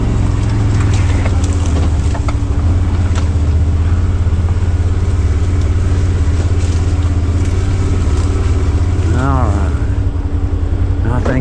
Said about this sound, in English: We're about as far as we need to take the Can-Am.